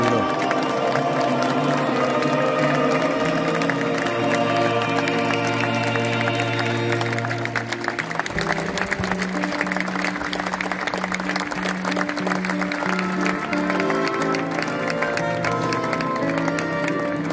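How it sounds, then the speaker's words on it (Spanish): Large outdoor crowd in Saint Peter's Square applauding and cheering after a canonization, a dense steady wash of clapping with a musical tone underneath, loud and sustained throughout. "Y así aplaude la plaza de San Pedro."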